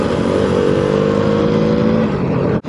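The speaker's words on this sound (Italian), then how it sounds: "Arrivano due moto." A loud, continuous rumble from two approaching motorcycles close by on a narrow road, holding steady with a slight change in pitch before a brief dip near the end.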